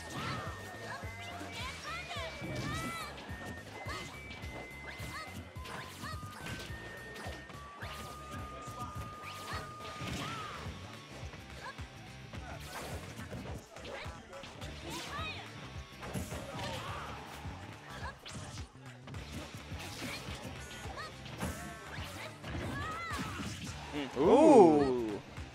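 Attack hits in Super Smash Bros between Greninja and Ness, with quick smacks, whacks and crashing impacts scattered through busy game music and effects, under steady commentary from casters.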